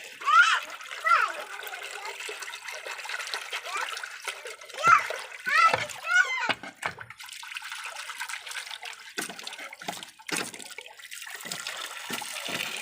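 Running water pouring and splashing while pet pigeons are washed in hot weather, a continuous faint trickle with intermittent splashes, bird chirps and people talking over it.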